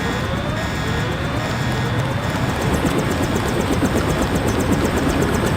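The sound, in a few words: helicopter engine in the video game Deus Ex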